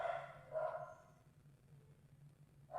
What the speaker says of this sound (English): What was that? The dogs.